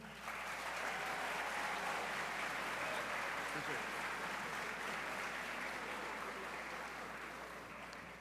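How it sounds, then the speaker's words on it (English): Steady applause from an audience at a high school graduation ceremony, sustained and fairly even for several seconds, heard at a moderate distance with no voices on top. "Please give a round of applause to Atmosphere's founder and CEO, Mr. Colin Green."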